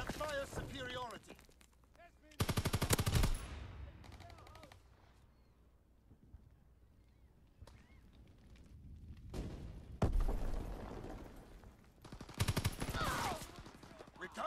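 Automatic gunfire bursts in Call of Duty: WWII team deathmatch, loud rattling volleys at the start, middle and end with quieter battlefield ambience and voices in between.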